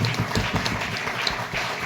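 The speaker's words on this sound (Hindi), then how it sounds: "एक बार मैं चाहूंगा इनके लिए जोरदार ताली होना चाहिए।" Audience at a motivational business event giving a speaker loud, continuous applause, a dense wash of many hands clapping close by with no break.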